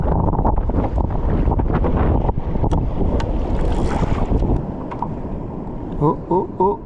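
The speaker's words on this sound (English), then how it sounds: "It's getting very, very windy though." Strong gusting wind roars across the microphone at a coastal truck camping spot by the water, loud and constant, with a voice speaking near the end.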